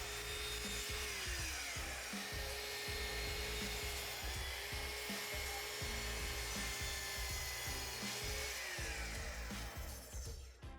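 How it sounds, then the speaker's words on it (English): A Festool Kapex miter saw cuts crown molding for an upper cabinet in a workshop, a steady loud whining blade drone running through the whole stretch with rough cutting texture and small shifts in pitch, and no talk over it. "So now I can go ahead and make the 3 cuts I need for my upper cabinet."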